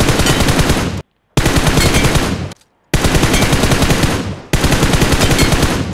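Rapid automatic gunfire from headshot shooting in PUBG Mobile, loud and close, in long sustained bursts separated by brief silent gaps.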